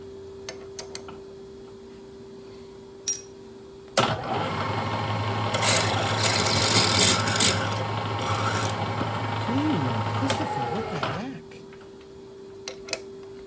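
A standard steel drill bit grinds into hardened steel on a South Bend lathe, a rough rasping scrape running about seven seconds after a sudden start, over a steady motor hum, with faint clicks before and after.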